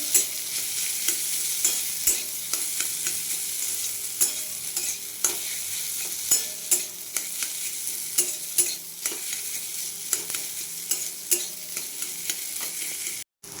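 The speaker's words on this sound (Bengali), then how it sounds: "এরপরে ভালোভাবে নাড়িয়ে দিচ্ছি।" Potatoes and spices stirred in a frying pan for bread chop, a continuous close sizzle of oil with frequent sharp spatula scrapes and taps in an uneven rhythm, stopping abruptly at the end.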